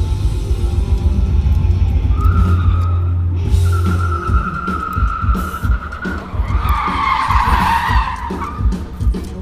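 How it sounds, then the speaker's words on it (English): A car's tires skid and squeal loudly during a stunt driving demo at SEMA 2016. Long tire screeches rise and break over a revving engine, close and loud, with no talk. "Look at him cook those tires"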